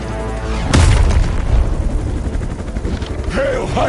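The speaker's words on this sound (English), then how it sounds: "That explosion just shorted out half our systems." A loud, booming explosion in the video game Midnight Suns bursts near the start and rumbles through a crackling gunfire-like clatter, fading slightly before more blasts and effects close it out.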